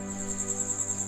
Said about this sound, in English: Cicadas buzz quietly in the garden